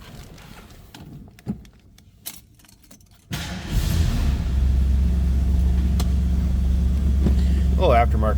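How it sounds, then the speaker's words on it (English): A 1970 Ford Mustang Mach 1 V8 cold-starts after a brief crank, then settles into a loud, steady, rumbling idle close by. Faint clicks and rustling come before the start. "Let's go ahead and start this up so you can hear it run."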